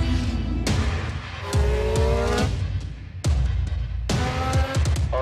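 Formula 1 car lapping the Red Bull Ring in Austria, engine note repeatedly rising through the gears then dropping sharply, loud and close, in a rapid sped-up sequence.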